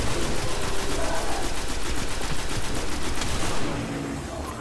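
Rapid automatic gunfire from the video game Destiny, a dense, continuous stream of shots firing loud and close for several seconds before easing off slightly near the end.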